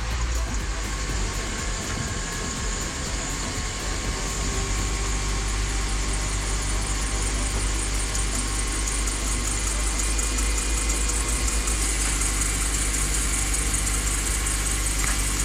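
A Mazda 3 engine runs steadily at idle with a constant low rumble and a faint whining, rattling noise from the accessory belt in the engine bay, close up.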